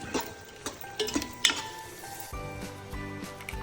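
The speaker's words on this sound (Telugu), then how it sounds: "కొంచెం ఆనియన్ వేసుకుందాం. వేసుకొని మరొకసారి కలుపుకుందాం." A spoon stirs onion into egg biryani in a cooking pot, giving a few scraping knocks and light metallic clinks over a faint sizzle.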